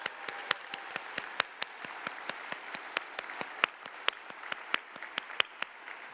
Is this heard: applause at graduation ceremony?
yes